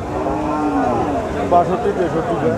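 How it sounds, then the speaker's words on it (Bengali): A cow at a cattle market lets out a loud, drawn-out moo close by, its voice wavering in pitch over a couple of seconds against faint crowd murmur. "এত সুন্দর একটি গাই গরু।"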